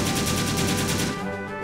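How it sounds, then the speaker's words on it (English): Rapid machine gun fire in the tactics video game ACORN Tactics, a dense loud burst of evenly spaced shots for over a second before trailing off, with no talk over it. "Actually, let's machine gun."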